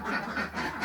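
Ducks quacking steadily on a duck farm, several birds calling in overlapping bursts, moderately close and fairly loud, with no talk over them.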